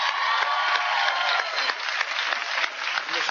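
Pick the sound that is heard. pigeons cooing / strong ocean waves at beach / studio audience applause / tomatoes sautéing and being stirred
studio audience applause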